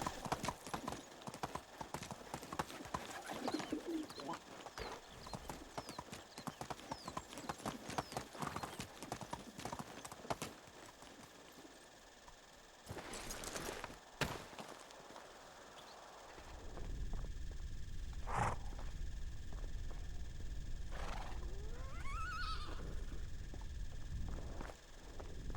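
A horse in the video game Medieval Dynasty clip-clops along at a quick steady pace, its hooves fairly close, then slows and the hoofbeats fade into a low rumble, with a few faint whinny-like sounds later on.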